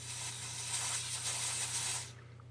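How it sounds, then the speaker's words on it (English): A can of compressed dusting spray blows a steady, close hiss into a Canon FT QL camera body for about two seconds, then cuts off, leaving a faint background hum. "I'll give it a light shot of dusting spray, very lightly"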